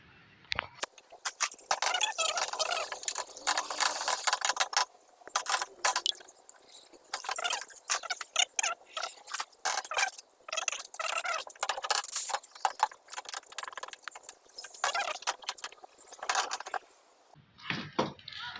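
Metallic clinks and ratcheting scrapes from a nut being tightened by hand on the piping of a TCL T3 Pro DC inverter AC unit, coming in close, irregular bursts with brief pauses and no talking.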